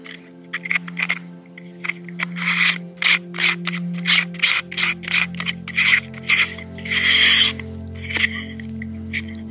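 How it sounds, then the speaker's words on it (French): A close-up lens being screwed onto a Sony macro lens with a 62 mm thread: close, loud, rhythmic metallic rubbing and scraping strokes that come in short repeated turns over a low steady hum. "je prends la bonnette 62 et je viens la visser"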